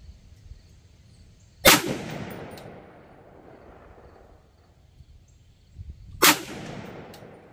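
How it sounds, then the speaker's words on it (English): Two loud, sharp gunshots at a steel gong, spaced several seconds apart, each ringing briefly into the open air while a red dot reflex sight is being zeroed outdoors. "I took those few shots there just to see where we were, so it's lined up good."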